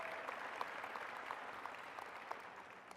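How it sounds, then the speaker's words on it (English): A graduation audience clapping steadily and evenly for a speaker, a dense wash of hands heard from some distance and fairly quiet, with no voices rising above it. "can we give a big round of applause to David?"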